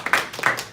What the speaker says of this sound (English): a big clap to you for really listening.